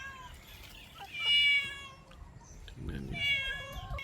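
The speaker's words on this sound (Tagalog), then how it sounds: "Ito po yung pusa namin, oh, noon." A returned pet cat named Ming meows on a farm in the early morning, giving two clear, drawn-out meows about two seconds apart. Someone speaks briefly between them.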